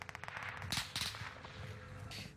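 Rapid gunfire in an online shooter game, with several bursts of shots at mid distance over continuous background game sound and music.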